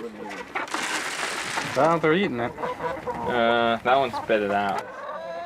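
Chickens cluck and squawk while eating scraps of food, with several close, irregular bursts of calls mixed with people talking nearby.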